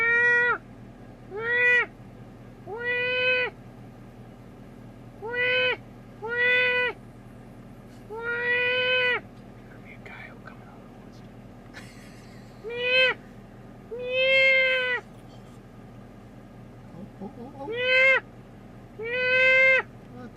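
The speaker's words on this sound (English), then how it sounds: "This is a specific deer call." Deer call blown in the woods: about ten short, nasal, bleating tones with a bending pitch, sounded one after another with brief pauses, moderately loud over a quiet background hum.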